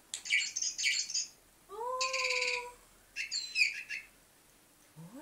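A cat meows indoors in a few short, separate bursts: rising and falling cries mixed with chirpy calls, quiet and close, with pauses between them.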